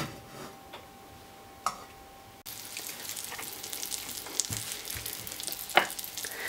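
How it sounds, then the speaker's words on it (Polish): Breadcrumb-coated fish fries in a pan, a steady close crackling sizzle that grows louder after a few seconds, with occasional pops and light clicks and no speech. "Smaży się ryba w bułce tartej, w panierce."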